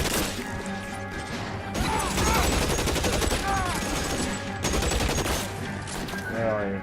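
Rapid bursts of machine gun fire in the video game LA Noire, dense rattling shots with crashing impacts running nearly continuously at close range, with a voice faintly mixed in.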